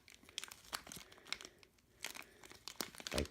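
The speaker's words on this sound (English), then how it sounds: "Let's go ahead and cut this open." Packaging around a cheap 3-inch, 30-watt speaker with spring wire terminals crinkles and crunches as it is cut open, in short bursts of plastic rustling and tearing at close range.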